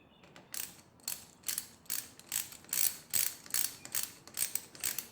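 A ratchet wrench tightens a carburetor bolt with a lock washer on a Honda Grom, about a dozen evenly paced ratcheting clicks and pulls, close and fairly quiet, with no talking.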